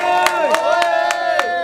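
A crowd at a CCM parliamentary campaign rally in Bugorola claps in a steady rhythm, with strong cheering and chanting voices sustained over the beat.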